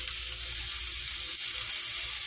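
Cheese-filled hotdogs sizzle and fry steadily in a pan, a continuous close crackling hiss at even loudness with no talking.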